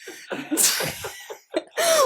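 A sharp sneeze bursts out loudly amid casual conversation, with voices talking before and after it in a close indoor setting.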